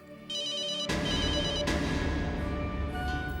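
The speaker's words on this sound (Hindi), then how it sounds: "चैतन्य का फोन होगा बेटा" A telephone rings with a repeating electronic ring tone, loud and close, sustained over a low background hum.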